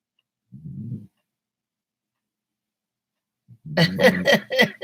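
An older dog snoring under a blanket: a short soft snore, a pause, then a longer, louder rasping snore, close and clear in a quiet room.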